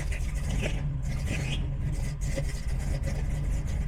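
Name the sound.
car engine starting after Killshot Fusion fuel injection install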